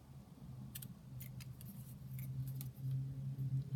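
Scissors snipping paper for a junk journal, a few quiet short cuts in quick succession over a steady low hum, close and soft, with no talking.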